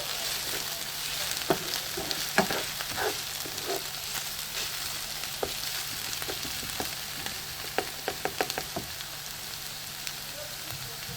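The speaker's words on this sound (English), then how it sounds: "So then in this stage I start adding my grounded meat to mix everything up. You know, I'm just stirring it." Ground meat sizzling and frying in a pan on low to medium gas for a Nigerian meat pie filling, with a steady hiss and scattered clicks and scrapes of stirring throughout, no voices.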